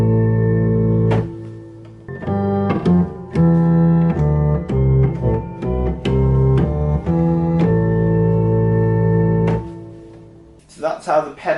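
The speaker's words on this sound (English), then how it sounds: "So that's how the pedal bit goes." Church organ plays the pedal part of the hymn tune Abbot's Leigh: a steady run of sustained, overlapping notes at even volume, close and full, ending with a short burst of speech.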